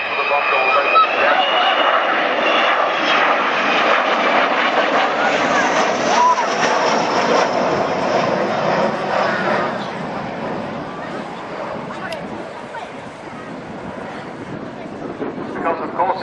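An Avro Vulcan XH558 bomber flies past at the RAF Cosford Airshow in 2014, a sustained roaring, howling jet drone heard at a distance and fading slowly, with an announcer talking over it.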